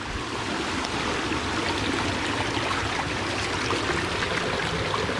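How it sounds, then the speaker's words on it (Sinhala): A clear stream of clean water flows through a plot of land, its channel laid with stones, giving a steady, unbroken rush and trickle that stays close and even throughout with no voices. "දොළ පාර ඉඩම මැදින් මහින්නේ"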